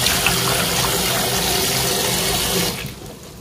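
Aloe vera is rinsed under running water from a tap into a sink, a steady close splashing rush that cuts off and fades near the end, with no voices.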